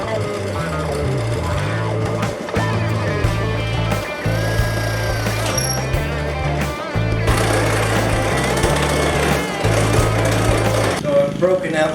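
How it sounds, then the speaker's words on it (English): Scroll saw cutting cherry wood: an old, rattly saw runs with a steady pulsing low hum and rapid mechanical chatter, close and loud for the whole stretch, with brief pauses and restarts. "Broken out the old scroll saw."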